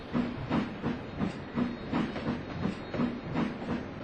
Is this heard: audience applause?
no